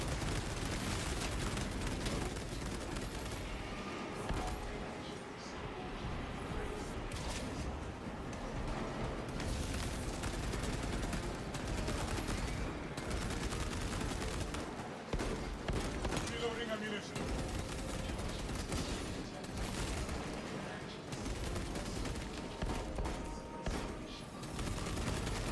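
Modded gunfire in the video game Space Marine, a dense, nearly continuous barrage of rapid shots and blasts lasting the whole stretch, with a voice talking intermittently over the din.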